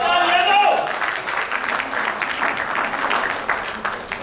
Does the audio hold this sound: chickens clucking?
no